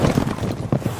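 Horses gallop in as a group of bandits arrives in The Witcher 3 video game, a steady rhythmic beat of hooves close by, mixed with music and a few faint voices over the whole second.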